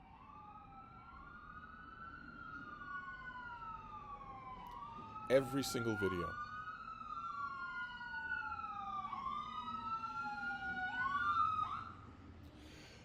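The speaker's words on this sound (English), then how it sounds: "Cue ear-piercing siren." A wailing emergency siren outside sweeps up and down in long repeating cycles, moderately distant and steady, with a brief sharp burst partway through; a person speaks briefly over it.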